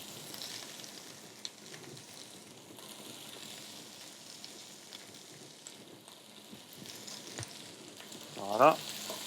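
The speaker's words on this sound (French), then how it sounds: "Donc on commence par les oignons et carottes." Onions and carrots sizzle softly in a pan as an aromatic base for roast pigeon, a low steady crackle with occasional faint scrapes and a brief louder clatter near the end.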